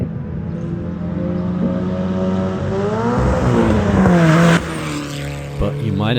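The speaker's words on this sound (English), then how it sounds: "Engine is pulling well." A race car engine revs and climbs in pitch as it accelerates hard, loud and close, then cuts off abruptly before a brief blip.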